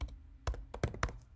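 Someone types code into RStudio on a computer keyboard, a handful of sharp, close keystrokes at an uneven rhythm with short gaps between them.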